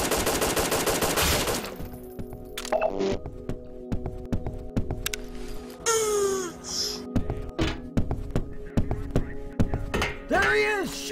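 Gunfire rings out in the zombie shooter video game Brainbread 2: an opening burst of rapid automatic fire, then scattered single shots and short volleys over a low hum, with players' excited voices cutting in between.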